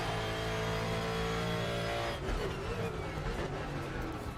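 Race-car engine of a Gumpert in a racing video game, sustained loud drone with steady harmonic whine, then a shift around midway to rougher, lower revving as the car brakes or changes gear.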